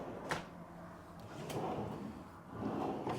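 Kitchen drawers in a small 399 sq ft prefab modular home slide open and shut, a few soft rolling and bumping sounds in a quiet room, close by.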